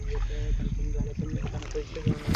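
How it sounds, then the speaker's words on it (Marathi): A small boat moves through water with a steady low rumble and rhythmic lapping, while someone speaks quietly. "आपण होडीत बसलोय"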